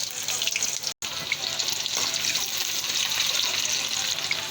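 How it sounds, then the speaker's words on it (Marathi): Water runs from a tap to wash cut ridge gourd pieces, a steady close rushing and splashing stream that continues almost throughout, broken once by a very short gap. "फोडी टाकून घेऊ. छान स्वच्छ धुवून ठेवू."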